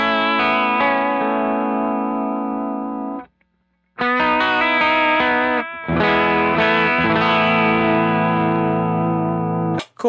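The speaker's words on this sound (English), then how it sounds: "Let's hear some bridge pickup." Electric guitar on the bridge pickup through a pedalboard of drives and modulation, sustained distorted chords with chorus and reverb that ring out, stop briefly, then return and decay, loud and alone.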